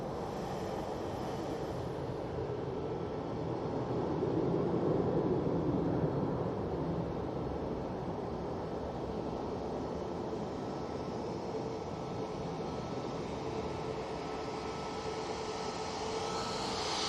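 At Manchester Airport, a jet airliner bound for Marrakesh departs runway 23 left with a sustained, moderately loud engine rumble that swells slightly early on, then holds steady.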